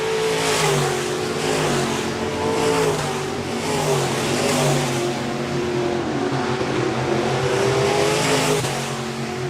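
B-modified race cars circling the 3/8-mile Park Jefferson Speedway oval, a continuous loud roar of several engines droning and rising together as the field runs through turns 3 and 4.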